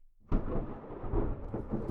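Thunder cracks suddenly during a storm, then a loud, rumbling roll follows close by and keeps going to the end.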